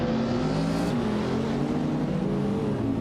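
Several racing cars pull away together from the start at Knockhill in a racing video game, with a 2016 Porsche 718 Cayman S in the pack, producing a steady, loud, continuous engine drone that holds throughout with no voices.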